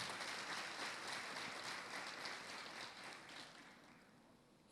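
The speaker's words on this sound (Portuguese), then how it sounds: "Pode aplaudir o Senhor." A congregation at a women's church service applauds, a steady wash of clapping that gradually thins and fades over several seconds, fairly soft and distant, ending with a brief sharp knock.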